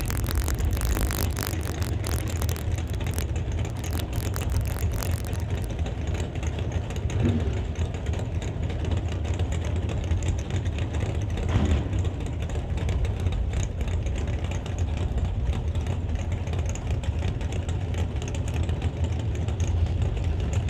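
Drag race cars with 632 cubic inch Chevy engines idle nearby in a loud, constant, deep rumble, with sharp crackling bursts early on and no voice over it.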